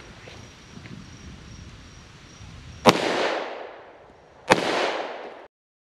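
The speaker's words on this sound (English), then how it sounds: "Hopefully I can hit it on the first shot." Two sharp, loud outdoor gunshots from Buffalo Bore ammunition crack about a second and a half apart, each trailing into a long rolling echo over quiet wind and rustling.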